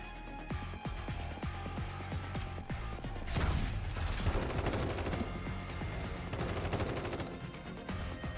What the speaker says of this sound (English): a string of precise gunshots cuts off the security team's transmission